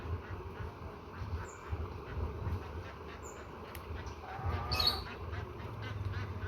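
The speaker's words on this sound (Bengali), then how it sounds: "আমার বেলজিয়াম হাঁসগুলা পুকুরে যাবে এখন।" Belgian ducks quack while heading down to a pond, a few short, faint calls rising over a low outdoor background, louder briefly in the middle, with no talking.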